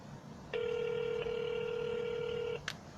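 Automatic dialer system placing a cold call, sounding one long steady dual-tone telephone dialing beep of about two seconds, followed by a brief higher chirp, over a quiet background.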